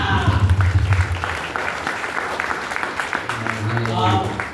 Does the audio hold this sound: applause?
yes